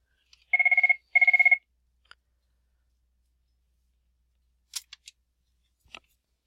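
Two quick warbling electronic rings from a telephone sound early and close together, followed by near silence broken by a few faint clicks.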